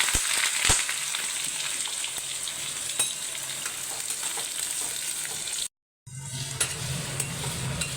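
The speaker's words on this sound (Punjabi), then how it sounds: "ਹੁਣ ਆਪਾਂ ਤੇਲ ਦੇ ਵਿੱਚ ਪਾਉਣੀ ਹੈ ਪਿਆਜ਼ ਪਹਿਲਾਂ ਪਾਵਾਂਗੇ ਥੋੜਾ ਜਿਹਾ ਜੀਰਾ" Chopped onions and cumin seeds hit hot oil in a pan and sizzle steadily, with stirring scrapes and a few utensil clinks close by; the sound briefly cuts out near the end and then the frying resumes.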